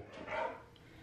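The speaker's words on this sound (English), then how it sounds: "He's going through a barking phase." One short dog bark, fairly quiet and a little distant, in an otherwise calm room.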